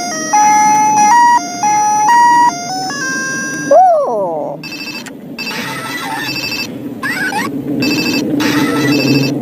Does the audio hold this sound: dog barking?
no